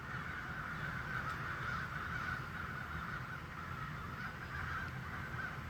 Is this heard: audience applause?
no